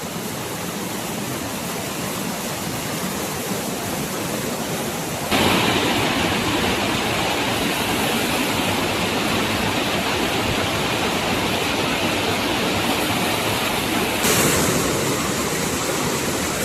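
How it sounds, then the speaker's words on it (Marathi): A small village waterfall roars as a steady, dense wash of falling water, close and loud, with the rush swelling brighter partway through and holding without pause. "वरचा अजून हा एक छोटासा वॉटरफॉल आहे इथं"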